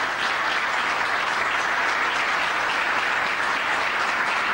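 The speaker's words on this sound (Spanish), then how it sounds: "Le recibimos, por favor, con un fuerte aplauso." Steady, full audience applause welcoming a moderator to a panel talk at a conference, dense clapping from many hands at even volume throughout.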